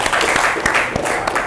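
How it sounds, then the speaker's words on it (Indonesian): Classroom applause for classmates: a short burst of steady clapping from a group of students, with a few sharper individual claps standing out. "Tepuk tangan untuk teman-teman kita."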